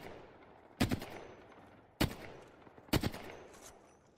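Three separate bursts of rapid automatic gunfire from a shooter video game, each a sharp crackling volley about a second apart, fairly loud over a quiet background with no speech.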